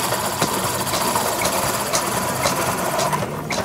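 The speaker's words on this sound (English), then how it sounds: "I am demonstrating how to make an inside-out turning on my wood lathe." A wood lathe spins a workpiece for an inside-out turning at an outdoor art and wine festival, giving off a steady motorized hum with a faint rhythmic rattle throughout.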